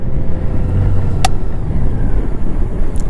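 Low, steady rumble of a Honda Gold Wing Tour GL1800 motorcycle engine while riding, mixed with wind buffeting, constant and close throughout.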